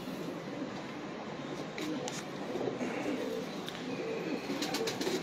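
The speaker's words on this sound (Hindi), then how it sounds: "ये हमारा चैंपियन कबूतर है बटेरा" A champion pigeon, a Batera breed kept by rooftop fanciers, coos softly and continuously against a dense murmur of other birds, with no one speaking.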